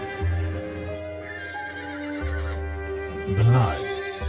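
Black horses neigh and whinny several times in the video game Dracula: Origin, against a steady musical backdrop, with one loud, close whinny near the end.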